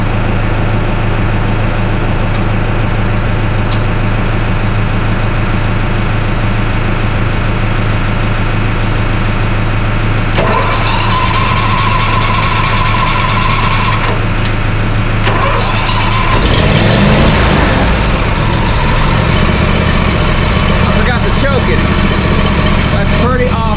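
A DR mower with a Briggs & Stratton engine, unused all winter, idles roughly before being started again; the engine catches and runs loudly close by, with people talking.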